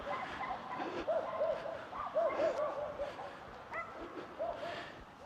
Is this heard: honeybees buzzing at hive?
no